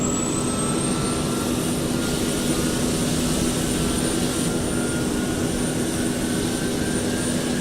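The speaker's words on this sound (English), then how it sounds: "Alright, APU is running." A jet airliner's APU spools up in the Prepar3D flight simulator after landing in Istanbul: a steady high whine rises in pitch over the first couple of seconds, then holds over a constant loud engine and cabin drone.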